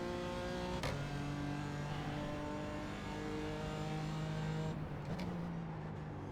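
A BMW M4 GT4 race car engine runs hard at full throttle at Watkins Glen, a loud, steady drone with two sharp gear shifts that briefly break the note.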